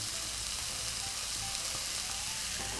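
Onion and grated carrot sizzle steadily in a frying pan as they are stirred, a close, constant crackling fry with faint scraping underneath.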